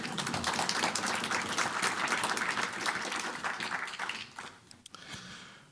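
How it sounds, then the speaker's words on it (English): Audience applause at a motivational talk, a crowd clapping steadily with distinct individual claps, loud at first then thinning out to scattered claps near the end. "you can clap for it"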